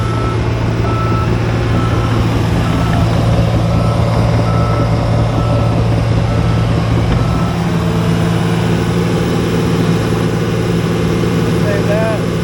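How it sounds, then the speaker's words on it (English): A John Deere 850J dozer backs up, its diesel engine rumbling loudly and steadily close by while the backup alarm beeps repeatedly over it. "We're going to go to reverse."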